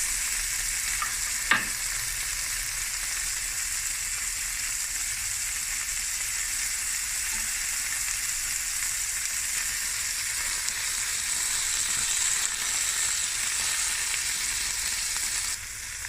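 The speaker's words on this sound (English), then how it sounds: "now we're flipping the prawns and we're going to brush it now again with some Sriracha sauce" Prawns frying in a pan while being flipped and brushed with Sriracha sauce, a steady loud sizzle throughout with one brief clink early on and faint handling noises, no talk.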